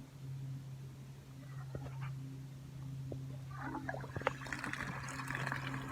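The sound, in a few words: mains water flowing after turning the stopcock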